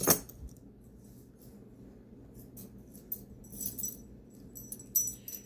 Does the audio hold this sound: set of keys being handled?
yes